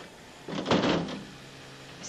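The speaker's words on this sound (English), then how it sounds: "Shut the door, Hayley." A door is pushed shut in an office, giving a single soft muffled thud close by against a low room hum, with no talk during it.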